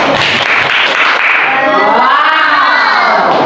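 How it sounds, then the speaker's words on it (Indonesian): Children in a classroom clap and cheer together, a dense, loud burst of shouting and applause that carries on steadily before thinning into a few high voices. "Beri tepuk tangan."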